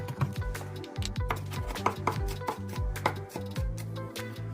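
Rosemary and green onion bulbs are chopped with a knife on a cutting board: quick, irregular close-up thuds and knocks in a steady run of cuts, with no voices.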